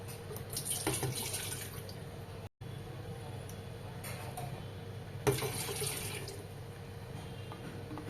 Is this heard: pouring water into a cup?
yes